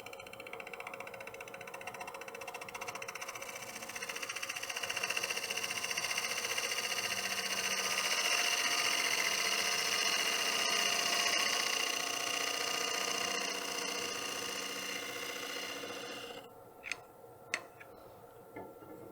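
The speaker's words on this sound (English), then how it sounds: "3/8 bowl gouge, bevel riding cut." Bowl gouge of 3/8 inch making a bevel-riding cut across a wooden platter spinning on a lathe, giving a sustained steady whirring hiss that swells mid-cut, then stops, followed by a few light knocks.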